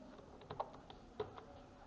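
Computer keyboard tapped in a quiet room, a few soft, sparse keystrokes with irregular clicks, faint and close, with no talking.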